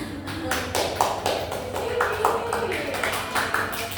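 A school class applauds a clean classroom with a run of rhythmic, fairly even claps from many children, near and moderately loud over a low background hum.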